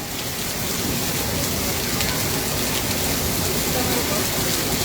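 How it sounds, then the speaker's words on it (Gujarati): Dense, even unseasonal rainfall in Morbi city hisses without letup, a loud steady wash of drops striking surfaces close by. "વરસાદ તમે જોઈ શકો છો કે વરસી રહ્યો છે"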